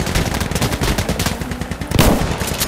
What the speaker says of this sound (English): this shotgun, if you get real good with it, I've had some good rounds with it